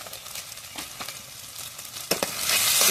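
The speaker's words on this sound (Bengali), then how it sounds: "এবার মশলাটা আমি ভালোভাবে কষিয়ে নেবো" Ground masala of chili, cumin and coriander powder sizzles hard in a hot pan for a yogurt eggplant curry. The hiss is steady, with soft stirring scrapes, and swells louder toward the end.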